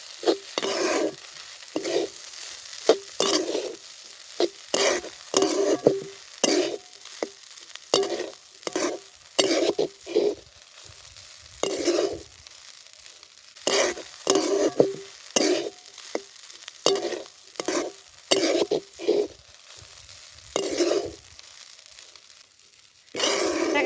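Garlic and peanuts sizzling in a frying pan while a spoon stirs them, giving repeated close scraping strokes in an uneven rhythm over a low crackle.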